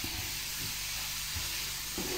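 Parsley, chives and onion fry in butter in a pan, giving a steady, close sizzling hiss for a couple of seconds with a few soft low bumps underneath.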